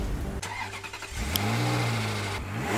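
A Ferrari 458 Italia police car in GTA 5 starts up and revs, its engine rising in pitch and then holding a strong, close, steady note.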